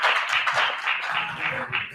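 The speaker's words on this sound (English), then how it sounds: "Let's give him a round of applause." Steady, fairly loud clapping from a crowd, a dense wash of hand claps that continues without pause.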